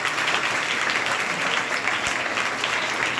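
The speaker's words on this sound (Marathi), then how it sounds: "म्हणून टाळ्या वाजवा त्यांच्यासाठी" Dense, continuous applause from an audience at a public gathering where a gold businessman is being honoured, fairly loud and steady throughout with no one speaking over it.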